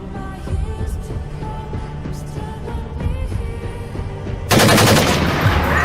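Gunfire in a film rattles in rapid, sustained bursts over a dense, noisy mix, then swells into a louder, harsher barrage near the end.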